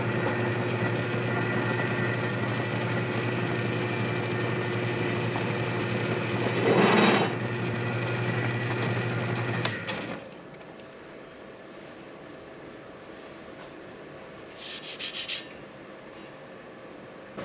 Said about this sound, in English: when I start to apply pressure on that punch mark with that center drill, it's going to pull it right to the center of that hole